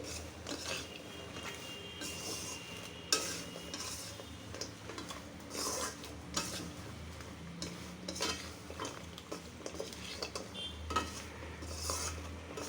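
A pitha mixture cooking in sugar is stirred in a pot, with a spoon repeatedly scraping and clinking against the metal at a steady, fairly quiet pace over a low background hiss.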